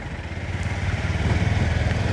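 Several motorcycles lined up on a narrow road near a landslide area in Arghakhanchi, their engines idling and rumbling together in a steady, close, low drone that slowly grows louder.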